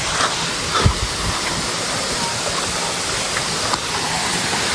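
A small, low-flow waterfall in Karnataka pours steadily, giving a continuous broadband rush of falling water that stays fairly loud and even throughout, with no one speaking.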